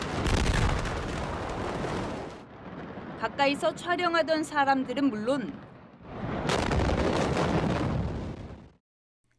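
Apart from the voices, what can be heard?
fireworks and firecrackers followed by a huge explosion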